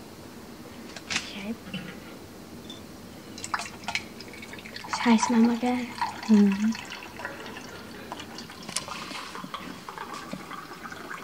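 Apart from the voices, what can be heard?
water being poured into a glass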